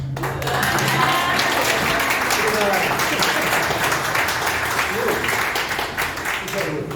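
Audience applause at a theatre event: a dense, sustained wash of clapping from a crowd, steady and fairly loud for the whole stretch, with faint voices mixed in.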